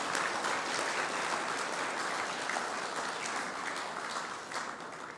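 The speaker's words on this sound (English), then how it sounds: "Please give ourselves a round of applause because we are here today" A conference audience applauding at a Caribbean regional water loss event, a broad, even roar of many hands that stays steady and slowly eases near the end, moderately distant and without speech.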